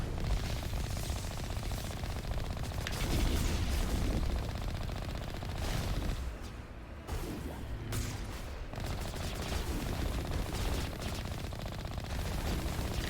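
Rockets and heavy weapons fire in the Mass Effect video game, a dense, continuous barrage of booming blasts and rattling gunfire that stays loud for most of the stretch and briefly thins near the middle.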